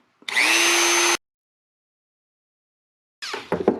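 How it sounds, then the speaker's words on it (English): A Dremel rotary tool sands wood on a wicker chair under repair, a loud steady high whine for about a second, then a second rougher burst of grinding a couple of seconds later, close by with no talking. "I'm gonna take my Dremel and I'm just gonna do like a small sand out"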